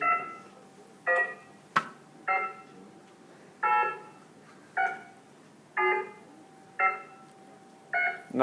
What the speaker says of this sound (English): Nah, the phone did the beep beep beep thing.